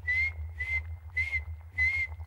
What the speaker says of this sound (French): je sais siffler en douceur et je vais te le prouver